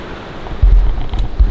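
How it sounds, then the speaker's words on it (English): Strong wind gusts buffet an outdoor off-grid homestead on a rainy day, a brief, loud low roar swelling partway through. "I wasn't expecting today to turn such a windy and rainy day"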